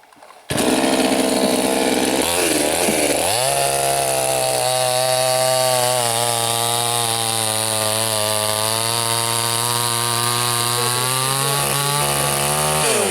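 A chainsaw felling a birch tree in the Siberian taiga roars to life after a brief moment, then runs loud and continuous, its engine pitch dropping and holding as it cuts through the trunk.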